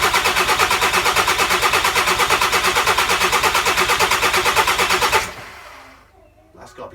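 The starter motor cranks over a newly installed engine in a VW T4 van, a loud, fast, even chugging that keeps going for about five seconds, then cuts off and leaves quiet room noise.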